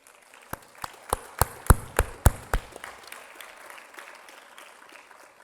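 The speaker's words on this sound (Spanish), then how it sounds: "le vamos a dar un aplauso" A few distinct hand claps, roughly eight sharp strikes in quick rhythm from someone close by, welcoming the master of ceremonies at a poetry concert, then fading into quiet room noise.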